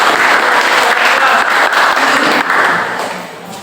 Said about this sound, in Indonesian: Ya, baik, berikan tepuk tangan.